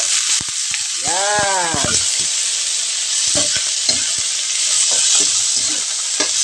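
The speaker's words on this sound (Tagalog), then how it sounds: "Ilagay na natin ang buko." Fresh young coconut sautéed with onions in a pan in a Bicol-style dish, a loud steady sizzle with stirring scrapes and clacks, and a voice speaking briefly over it.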